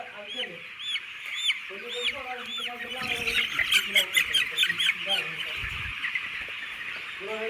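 Young poultry chicks squawk and cheep nonstop, close and loud, as they are lifted one by one over a net, with a voice speaking under the chirping and a few thumps of handling.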